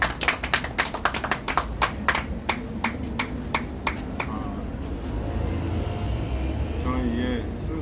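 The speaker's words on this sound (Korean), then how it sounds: "박수로 모시겠습니다" A gathering of Christian groups claps to welcome a pastor from Gangwon Province, a short run of crisp, rhythmic claps that fades within a few seconds, leaving a room murmur with a voice starting to speak.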